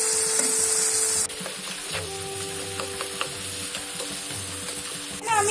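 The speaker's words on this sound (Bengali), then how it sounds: "এবার এই দুটো দিয়ে এবার ভাজাটা আমি ভাজা করবো।" Stuffed pointed gourds (parwal) filled with a spiced mix of turmeric and salt fry in hot oil, a close, steady sizzle with light crackles and occasional utensil scrapes throughout.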